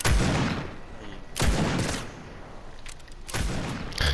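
Gunfire in a Fortnite prop hunt match: loud bursts of shots with sharp blasts near 1.4 and 3.4 seconds, over steady rattling fire, with voices faintly in the mix.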